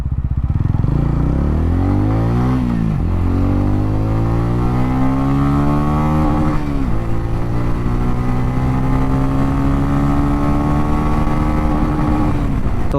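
A TVS Ronin 225 cruiser motorcycle accelerates hard on a road ride, its engine note climbing steeply through several gear changes, each shift briefly dropping the pitch before it rises again, loud and close with wind rush.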